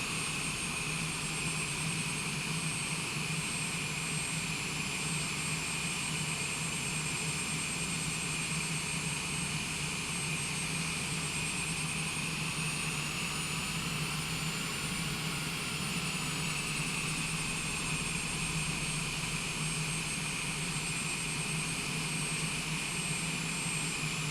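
A jet aircraft taxis to park at Columbia airport, its engines giving a loud, steady whine and roar with a high tone that stays constant throughout.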